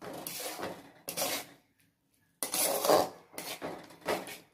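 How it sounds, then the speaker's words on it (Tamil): Spoon scraping and clattering around a pan while stirring white sauce pasta with cheese, in several loud bursts separated by short pauses, with a brief near-silent gap in the middle. "இது எல்லாத்தையும் இப்போ நல்லா கிளறி விட்டுக்கலாம்"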